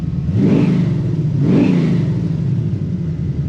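A 1957 Chevy 210 V8 engine revs up twice in a row, a deep rumbling growl that swells and falls back to a steady idle.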